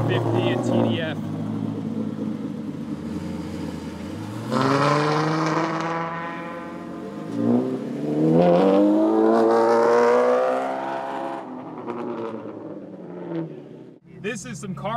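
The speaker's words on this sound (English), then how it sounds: "Okay, guys, F50 is leaving." A Ferrari F50 supercar pulls away, its engine revving up through rising sweeps and then falling and rising again, loud and close at first before fading off, with people talking over it.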